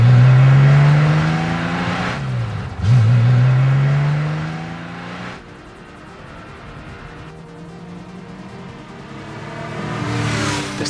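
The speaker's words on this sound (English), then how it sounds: "These mechanically fuel-injected engines are super responsive." Revving from a 1976 Porsche 911 Targa, an ex-police car with a mechanically fuel-injected engine: two loud, sharp throttle blips climb and fall in the first half, then a lower, rougher engine drone lingers and swells again near the end.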